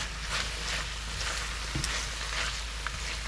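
Beet stems being stirred and mixed in a hot pan, a steady close sizzle with soft scraping and a light knock, no talking.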